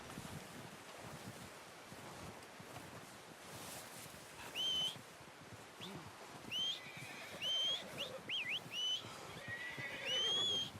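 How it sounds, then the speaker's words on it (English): A horse whinnies several times in bursts, clear and fairly close, over a steady backdrop of wind and outdoor ambience, in the video game Red Dead Redemption 2. "I'm gonna get this packed on my horse."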